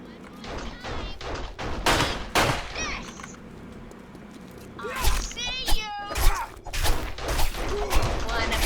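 Gunfire in the survival video game 7 Days to Die with the War of the Walkers mod: a quick string of sharp shots early on, followed by thuds and clatter, with someone talking over the action.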